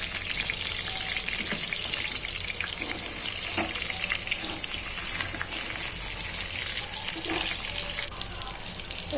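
Large cut potato pieces frying in hot oil in a wok, a steady loud bubbling sizzle with scattered pops and occasional utensil knocks, easing slightly near the end.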